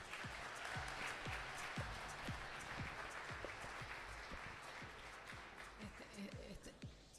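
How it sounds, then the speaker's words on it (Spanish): Audience applause at an architecture master's program keynote lecture in 2019, a dense even wash of clapping heard somewhat distantly, with low thumps scattered beneath. "Un fuerte aplauso, por favor,"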